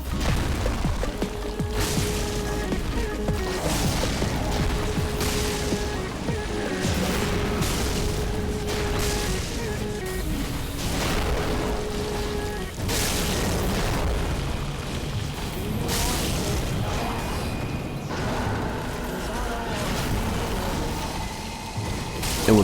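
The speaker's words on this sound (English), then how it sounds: "I decided to use the Great Combustion, the Great Chaos Fire Orb, and the Bursting Fireball" Pyromancy fire spells in Dark Souls 3, including Great Combustion, Great Chaos Fire Orb and Bursting Fireball, erupting in a continuous barrage of loud booming explosions and bursts during a Dragonslayer Armour boss fight.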